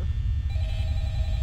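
A telephone rings in the Five Nights at Freddy's video game, a short electronic ring with steady tones over a low droning hum, fairly loud and heard alone.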